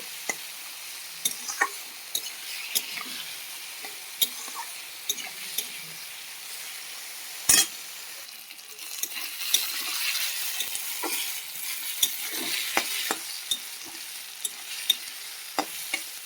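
Potato pieces fry in a pan with a steady, close sizzle, broken by sharp ticks and scrapes from stirring throughout, for a dinner dish of potatoes and egg.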